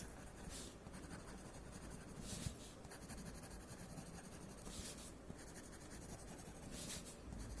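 Thick graphite pencil shading along the edges of a Zentangle-style drawing on paper, a close, soft continuous scratchy rubbing with brief louder strokes recurring every second or two, no voices.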